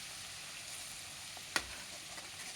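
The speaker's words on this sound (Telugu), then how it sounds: "నెమ్మదిగా కలుపుకుంటూ" Chicken pickle (nilva pachadi) stirred slowly in a pan, a steady soft sizzle of frying with one sharp scrape of the spoon near the middle.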